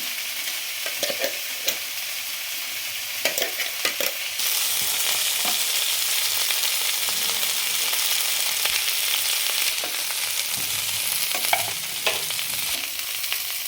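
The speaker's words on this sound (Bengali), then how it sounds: "হালকা ফ্রাই করে নেব যেন দেখবেন গায়ে যাতে কোনো পোড়ার দাগ না লাগে সেইভাবে আমি ভেজে নেব মশলাটা" Spice paste fries lightly in a pan for a cauliflower do pyaza, a steady close sizzle broken by repeated scraping stirs of a spoon, with no talking.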